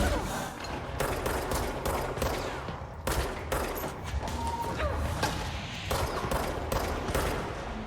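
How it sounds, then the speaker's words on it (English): Dense, loud gunfire and bursts of impacts fill a firefight in the video game Control, with heavy repeated shots crashing almost continuously over a rumbling background. "I'm going to try my hardest here to not get hit by the snipers"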